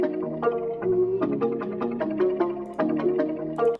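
Melodic sample pitched down one octave in FL Studio plays a dense, warm, lower-register phrase of overlapping notes, steady and continuous with a slight bump near the end.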